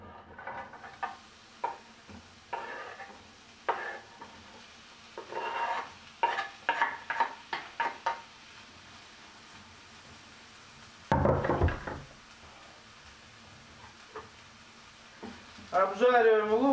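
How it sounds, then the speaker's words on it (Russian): Onions sizzle in hot oil in a frying pan while being cooked for a creamy garlic chicken dish. Bursts of scraping and stirring come and go close up, with a louder spatter of frying near the middle. "Обжариваем лук до золотистого цвета."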